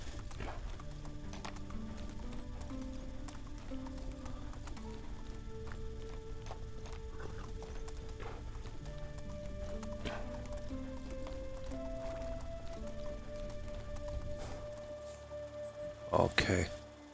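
Horse hooves clip-clopping at a steady walking pace in the medieval game Medieval Dynasty, set against a continuous bed of in-game music and ambience, with the hoofbeats ending in a short burst of louder noise.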